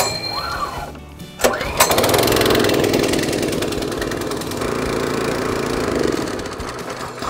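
A new petrol engine on a Cobra S40C scarifier catches after a recoil pull, rising from a brief sharp burst into a steady, loud, close running drone that holds to the end.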